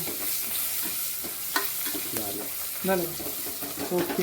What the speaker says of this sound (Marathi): हळद टाकलेलं आहे बघा माझ्यात आणि जरा नुसतं हलवून घेऊन हलवून